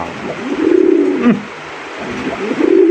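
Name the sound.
Rasgolla pigeon cooing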